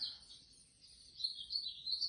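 Small birds chirp and tweet indoors near a home with a TV, a faint stream of high thin calls running over quiet room tone, growing slightly busier toward the end.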